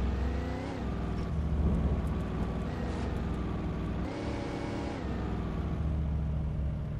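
A car driving in the video game Alan Wake Remastered, its mid-pitched engine humming steadily and swelling as it revs, steady and fairly close throughout with no talk.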